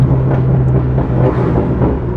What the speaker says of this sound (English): just take a listen to how beautiful this system sounds now.